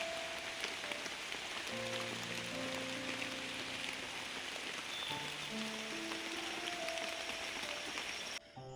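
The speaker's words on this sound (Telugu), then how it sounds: "అడ్డాకుల కోసం అని వెళ్తే వర్షం పడిందండి ఇక్కడ." Rain falling outdoors where leaves are gathered for tribal leaf plates, a steady dense hiss of drops throughout, with a soft melodic tune running beneath it.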